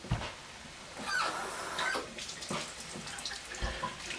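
Liquid is poured into a cooking pan, a soft wet splashing and trickling that comes and goes in short bursts over a few seconds, close by and moderately quiet.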